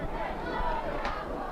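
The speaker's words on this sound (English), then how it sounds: "You hear the crowd going wild now with the chant for "Let's go Capo."" Spectators at a men's NISA soccer match between Capo FC and Sporting ID 11 roar and chant in a broad, steady wash of crowd noise heard from a distance.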